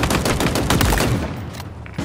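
Rapid gunfire at targets in Halo Infinite, a loud burst of automatic shots in quick succession that tails off, followed by a single closer report, with no voices.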